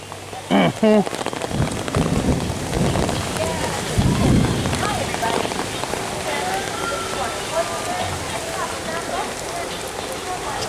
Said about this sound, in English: I can get through rain here